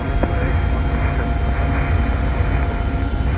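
Pilatus PC-21 turboprop trainer taxiing in Microsoft Flight Simulator, a steady, loud propeller-engine drone holding constant throughout, with a brief click near the start and no talk.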